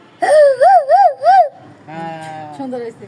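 A person's voice imitates a dog, giving three or four loud, wavering, howl-like barks in quick succession, followed by quieter voices and talk.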